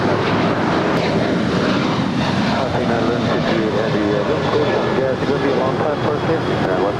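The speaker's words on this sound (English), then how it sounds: "That was United 2010 departing to Seattle. It's a 21-year-old 737-800." A 21-year-old United Boeing 737-800 departs LAX, its jet engines a broad, steady roar heard from a distance, with airport radio chatter running underneath.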